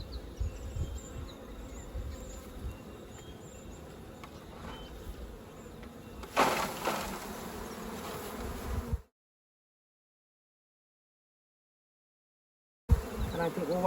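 Honey bees hum around an opened hive during an autumn varroa check, a low continuous drone close by, with a louder rustle partway through before the sound cuts out and briefly returns.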